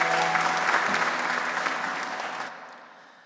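A church congregation claps steadily in a dense burst of applause that gradually fades away over a few seconds.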